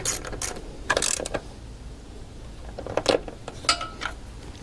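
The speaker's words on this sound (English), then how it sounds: "So now we can put our ratchet on and we can tighten those all down, all three." Ratchet tightening the three headlight screws on a Jeep, with several short bursts of fast clicking separated by pauses, close and moderately loud.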